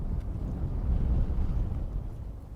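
Wind buffets the microphone in a steady low roar, gusting slightly louder and softer, with no voices.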